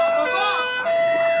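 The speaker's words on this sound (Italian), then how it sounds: "È la sirena." A wailing siren holds a steady high tone that dips and rises again, loud and close, with no pauses across the short stretch.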